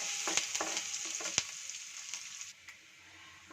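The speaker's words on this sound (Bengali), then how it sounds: "আদা রসুনটাকে কিন্তু ভালো করে ফ্রাই করে নেব।" Chopped ginger, garlic and green chilli fry in oil for a chicken dish, giving a close, bright sizzle broken by a few sharp spatula scrapes and stirs before it fades near the end.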